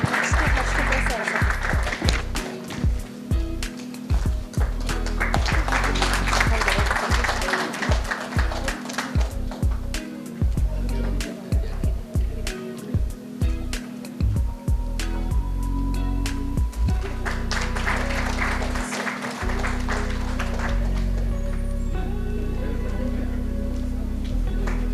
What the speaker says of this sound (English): A huge round of applause to Dr.